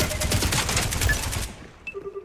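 Rapid bursts of automatic gunfire in the shooter game Spectre Divide, loud and dense for over a second, then cutting off to a few faint electronic blips.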